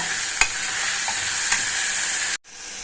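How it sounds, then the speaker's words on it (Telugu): Curry leaves frying in a pan of oil for a tindora methi curry, a steady close sizzle with a couple of sharp pops, cutting off abruptly near the end. "ఇప్పుడు కరివేపాకు వేస్తున్నాం బాగా వేయించుకోవాలి"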